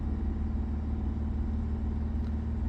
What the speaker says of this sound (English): Let's rev it up to 3000 RPM.